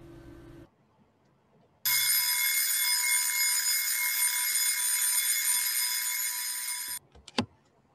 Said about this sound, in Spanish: Primer sonido, el de un reloj despertador.